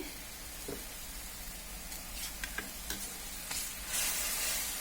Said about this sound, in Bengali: এখন আমাদের যে মাংসটা কিমা করা সেটা দিয়ে দিচ্ছি।